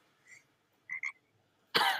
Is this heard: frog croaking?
yes